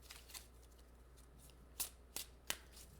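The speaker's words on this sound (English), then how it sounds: "Okay, one more shuffle." Tarot cards being shuffled by hand in a quiet room: soft rustling followed by three sharp riffling snaps close by, with no talk.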